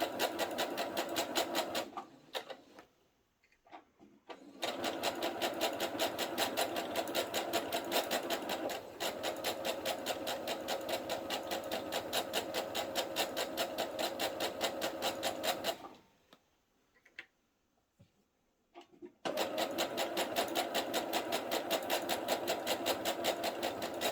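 A sewing machine stitches a partial placket onto a garment, running in fast, steady bursts with two brief pauses, loud and close, with no voices.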